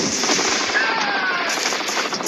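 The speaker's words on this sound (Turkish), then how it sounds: "Adam koşarken ben adamın sırtından vurdum." Dense, rapid gunfire from the video game Commando Mission Gun Games 3D rattles continuously, loud and unbroken, with a voice talking over it.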